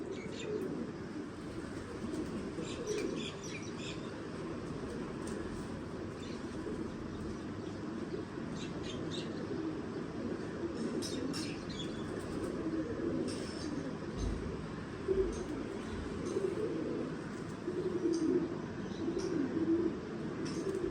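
Pigeons coo softly and repeatedly in a loft, set against a steady low background rumble, with the calls rising slightly louder in the later part.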